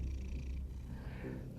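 Several cats purring contentedly in a home bedroom, a close, steady low rumble that runs unbroken, quiet and alone with no talk over it.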